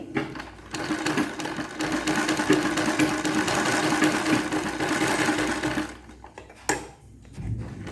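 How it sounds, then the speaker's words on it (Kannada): A sewing machine stitches fabric in a fast, steady close-up rattle for several seconds, then stops, followed by one brief extra burst of stitching. "ಹೀಗೆ ಸ್ಟಿಚ್ಚಿಂಗ್ ಹಾಕ್ಕೋಬೇಕು ನೋಡಿ"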